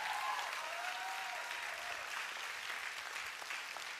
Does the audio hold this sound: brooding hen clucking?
no